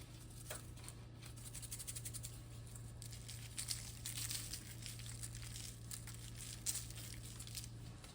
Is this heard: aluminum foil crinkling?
yes